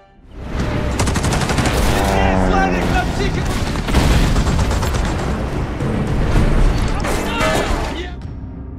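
Dense gunfire and artillery explosions fill a war film battle scene at an artillery gun position, with sustained loud bursts, booms and a heavy rumbling barrage throughout, mixed with shouting voices.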